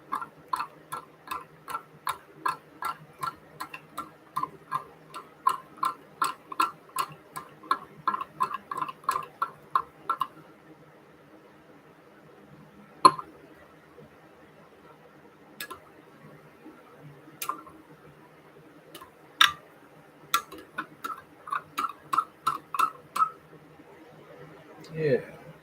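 Stirring a pot of melted soft-plastic remelt: rhythmic light tapping and clicking in quick bursts, pausing and then resuming, fairly close and quiet.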